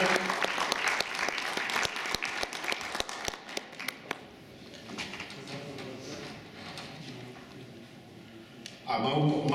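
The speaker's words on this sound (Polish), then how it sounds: "Poprosimy o wielkie brawa." Applause from guests at a cycling federation's anniversary gala starts strong with distinct close claps, thins and fades after a few seconds, then a brief burst of noise and voices returns at the end.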